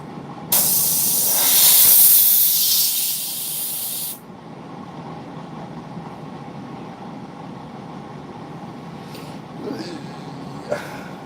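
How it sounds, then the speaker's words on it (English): Airbrush spraying in one loud, close, steady hiss of about four seconds, followed by quiet room sound and faint noises. "It was my first freaking airbrush and it works just fine."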